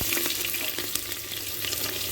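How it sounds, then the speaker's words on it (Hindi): Onion and green chillies fry with cumin in a clay handi pot, giving a dense, loud, continuous sizzle with a few brief stirring scrapes. There is no talking. "एक बार मिर्च डल जाएगी तो उसके साथ साथ जाएगा प्याज"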